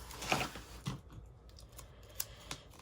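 Scissors snipping paper for an Erin Condren planner, a few sharp, close cuts spaced unevenly across a quiet room.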